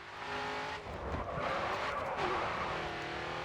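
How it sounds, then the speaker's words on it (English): Race car at full throttle in the Grid 2 racing game, its engine roaring loud and steady with a hint of tire skid, sustained throughout without talk. "Right, full throttle now, coming onto the final straight"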